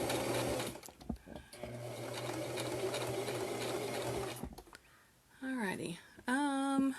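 A sewing machine stitching fabric for a homemade face mask runs in a steady close whir for several seconds, then stops; a voice speaks briefly over the machine and a high-pitched voice follows once it stops.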